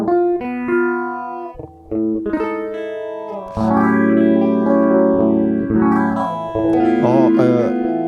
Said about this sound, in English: It's a phaser.